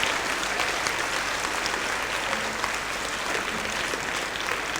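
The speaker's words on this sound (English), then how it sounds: "I would like you all to give yourselves a clap, a real good clap" A theatre audience and production team clap together for a staging of Into the Woods, a dense, steady ovation of many hands that continues evenly from start to finish.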